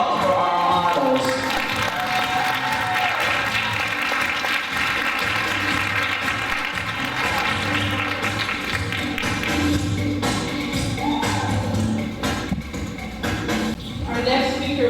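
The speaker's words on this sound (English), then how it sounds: "Please give a warm round of applause for our models." An audience at a wig launch showcase applauds the models, steady clapping and tapping going on for the whole stretch over background music, with crowd noise mixed in.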